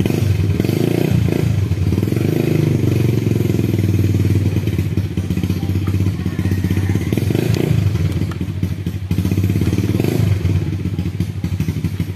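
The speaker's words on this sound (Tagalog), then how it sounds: "nakaingay ang motor mo" A loud motorcycle engine roars steadily throughout, close by, with occasional clattering and thumps over the constant rumble.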